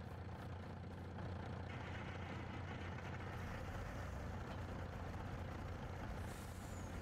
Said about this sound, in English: Fire this tractor up.